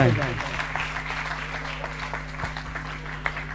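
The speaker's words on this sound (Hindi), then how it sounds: "आप जोरदार तालियां बजाएं" An assembly at a Jain religious discourse applauds in honour of an honoree, a continuous spread of clapping that rings in a reverberant hall, underlaid by a steady electrical hum.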